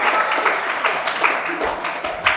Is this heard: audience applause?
yes